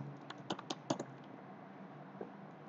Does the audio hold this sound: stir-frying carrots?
no